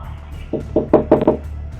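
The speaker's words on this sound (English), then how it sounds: "He keeps on knocking on the door but gets no reply" Robber knocking on a home's front door on Christmas Eve, caught by a security camera. Five firm knuckle raps on wood come in quick, slightly uneven succession, close and clear over a low hum.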